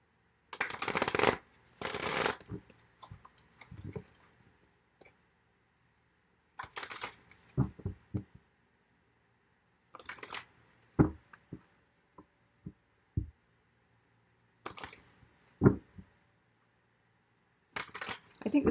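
Tarot cards being shuffled by hand in several separate bouts, each a quick rustling riffle followed by sharp taps and clicks as the deck is squared, with quiet pauses between and talk in places.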